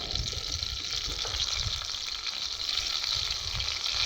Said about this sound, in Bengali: আবার একটা কড়াইতে আবার তেল দিয়ে একটা পাঁচফোড়ন দিয়ে